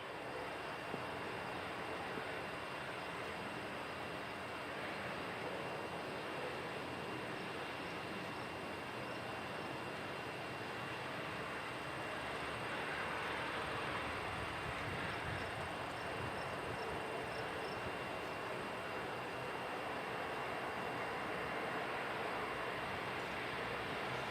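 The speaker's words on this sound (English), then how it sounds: "Just taxiing over to the gate now." Airliner taxiing to the gate at Ottawa Macdonald-Cartier International Airport, a steady distant jet engine rumble and whine, faint and unbroken, with no one speaking.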